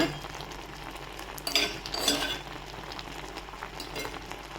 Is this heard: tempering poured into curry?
yes